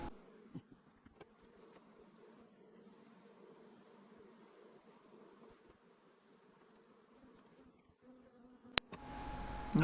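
Honeybees on hive frames being brushed off during queen rearing give a soft, steady buzzing hum, close and faint, with light handling clicks and a louder rustle at the end.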